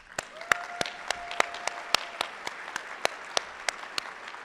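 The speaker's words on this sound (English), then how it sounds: "Can you guys just help me give a round of applause to Jeanette?" Sparse, evenly spaced claps from a small audience at an environmental excellence awards celebration, sharp and distinct, repeating steadily at a brisk rhythm with a faint tone held behind them.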